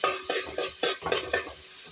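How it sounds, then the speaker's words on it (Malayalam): Garlic and ginger frying in a little oil in a pan, a steady sizzle broken by several scraping stirs of a spoon, close and clear with no talking. "വെളുത്തുള്ളിയും ഇഞ്ചിയും മൂത്ത് വരാൻ വേണ്ടിയിട്ട് അല്പം എണ്ണ ഒഴിച്ചിട്ടുണ്ട്"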